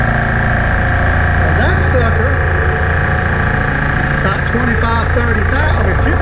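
A machine tool cuts a dovetail into a large lathe tool, producing a loud, continuous mechanical hum and whine that stays constant throughout with faint fluttering overtones.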